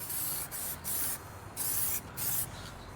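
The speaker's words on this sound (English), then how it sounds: "We're just going to give it a quick spray now" Quick bursts from an aerosol spray can onto a car brake part, four short hissing blasts in a steady rhythm, close and fairly loud with no talking.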